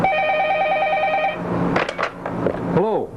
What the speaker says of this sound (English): I hear that telephone ringing.